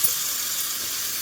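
Vegetables tipped into hot oil and spice paste in a home kitchen pan, giving a steady, close, even sizzle that holds level throughout with no voices.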